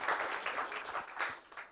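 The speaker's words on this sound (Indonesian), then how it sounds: "berikan tepuk tangan buat MC kita yang luar biasa" Audience applause at an event honoring the master of ceremonies, a short burst of many hands clapping at moderate loudness, steady and dense throughout.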